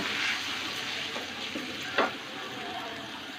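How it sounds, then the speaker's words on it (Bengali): Spice paste with mustard paste and ginger paste sautéing in a pan for a rohu fish curry, a steady close sizzle with a few spatula scrapes and one brief knock, no voices. "আদা বাটা দুই চা চামচ মশলাটা কষিয়ে নেব"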